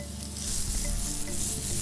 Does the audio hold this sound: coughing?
no